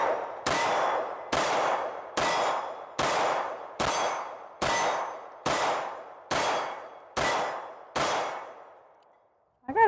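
A Fusion Firearms XP Pro 2011 pistol fires about ten sharp, loud shots at an even pace, each one ringing out with a decaying echo before the next, then a brief silence at the end.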